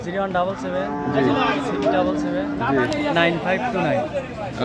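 Cattle lowing repeatedly at a crowded Bangladeshi livestock market, several moos overlapping one another close by, with a steady hubbub of people talking in the background.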